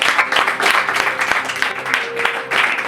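Loud applause from a gathered congregation at an Iftar prayer meeting held in a pastor's home, with steady dense clapping throughout and a few sharper individual claps standing out.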